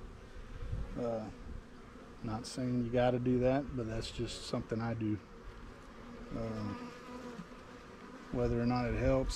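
Honeybees drone steadily around a frame lifted from a hive during a split, with someone talking close by over the continuous buzz.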